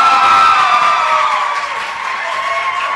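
A game-show audience at a quiz contest cheers and applauds after a correct answer, a loud close crowd roar with whoops and shouts of children over dense clapping, steady throughout and fading slightly near the end.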